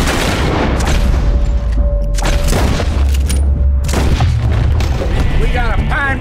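Heavy booming gunfire in Red Dead Redemption 2, a dense, loud barrage of shots with rumbling low end, mixed with shouting voices throughout.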